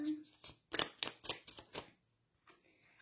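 Tarot cards handled and drawn: a close burst of about six crisp papery flicks and riffles, then a pause and a softer slide, with a voice speaking near the start.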